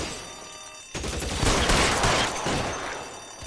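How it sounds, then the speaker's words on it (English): Tommy gun fire in the LA Noire video game breaks out after a quiet lead-in, a loud sustained burst of automatic shots that swells and then tapers. "They got Tommy guns."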